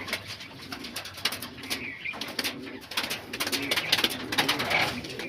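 Pigeons in a home loft giving low repeated coos over a steady murmur of background noise, with occasional rustles and faint voices nearby.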